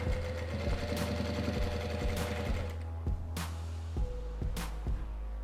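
A sewing machine stitches bias binding onto a fabric vaccination-card holder, with a steady close motor drone and a regular needle rhythm, plus a few sharp clicks and knocks from handling.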